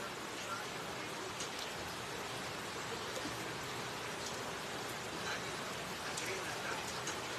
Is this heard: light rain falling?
yes